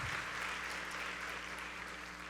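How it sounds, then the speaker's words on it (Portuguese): Applause from a church congregation at a Sunday service, a soft, even hiss of many hands clapping heard from a distance, fading slightly over a couple of seconds. "Você pode dar uma salva de palmas para eles"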